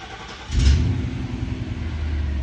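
Mercedes W126 560SEL V8 cranks briefly and catches, settling into a steady, loud, low-pitched idle rumble close by.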